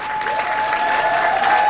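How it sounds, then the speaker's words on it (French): Audience applauding at an outdoor cultural day event in Washington DC, a dense continuous wash of clapping with a steady tone ringing beneath it. "Est-ce qu'on peut applaudir pour le peuple ECAN?"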